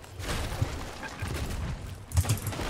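Sniper rifle gunfire in a video game, a few sharp cracks standing out over a busy, noisy game mix, with the loudest pair of shots near the end.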